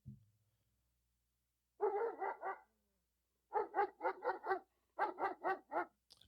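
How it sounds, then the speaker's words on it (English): A recorded dog barking sound effect plays from a RØDEcaster Pro: three quick bursts of three to five sharp barks each, clear and close, separated by short silences. "Dog barking."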